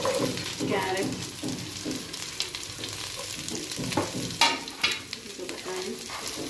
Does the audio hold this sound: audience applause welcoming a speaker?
no